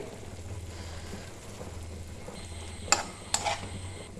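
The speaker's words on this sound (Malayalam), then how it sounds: "നമ്മുടെ ചിക്കൻ നന്നായിട്ട് തിളച്ച് വന്നിട്ടുണ്ട്." Chicken boiling in a covered pan makes a soft, steady bubbling hiss, fairly quiet, broken by two sharp metallic clinks near the end.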